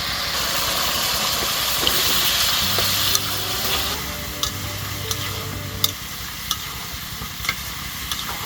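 Cut potatoes drop into spice paste already frying in a pan, giving a steady close sizzle with stirring scrapes and a few sharp clicks from a utensil.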